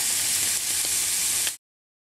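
A crab-less cake mixture cooks in a pan with a steady, fairly loud sizzle that holds for about a second and a half, then cuts off abruptly.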